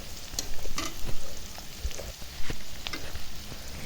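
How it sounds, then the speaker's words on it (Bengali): Fried onions cooking with ginger and garlic paste in a pan for chicken and potato curry, a busy close sizzle with repeated stirring scrapes and clanks in an uneven rhythm. "দেখুন এখানে আদা বাটা রসুন বাটা এগুলোর সাথে এখন মিক্স করে ভেজে নেব"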